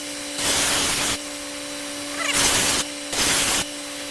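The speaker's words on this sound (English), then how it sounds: "I'm gonna break the edges of this with this grinder." An angle grinder breaks the edges of a metal piece while making a waterfall platen, a loud, close abrasive hiss in three distinct bursts over a steady motor whine.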